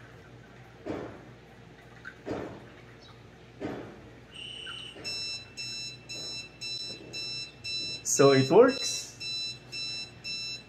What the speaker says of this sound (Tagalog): Nag-alarm yung hub natin nang mapuno ang water tank natin.